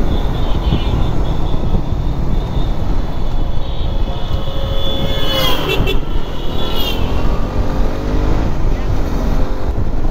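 A motorbike riding along a road on a long-distance tour in northern Bangladesh, giving a loud continuous engine drone with heavy wind rush, close and steady throughout, with a passing vehicle sweeping by midway.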